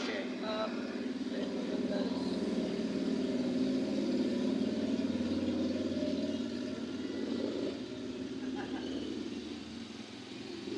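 Steady, loud road traffic with car and motorcycle engines rumbling and droning close by, filling the whole stretch without pause.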